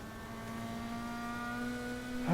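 Car engine in the racing video game Need for Speed Heat, a steady sustained drone with a firm tonal hum that swells slightly in the final moment, heard alone without talk.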